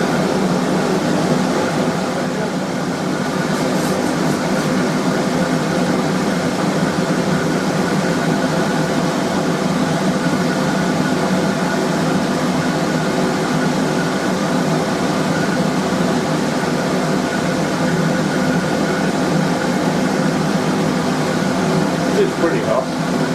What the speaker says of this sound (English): Turning the blower up now.